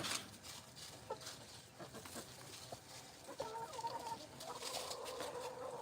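Chickens cluck softly around a yard near a house and fence, with scattered short calls and a few brief squawks over faint background noise, growing slightly busier toward the end.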